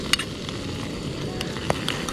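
Rice heats in oil in a pan over direct heat outdoors in a tent setting, giving a faint, steady low sizzle with a few small crackles and pops.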